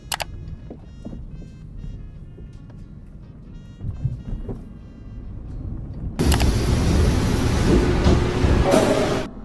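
Heathrow Express train ride in the Roblox game Bloxburg: low rumbling carriage noise with a few clanks, then a sudden loud, steady rushing roar for the last few seconds.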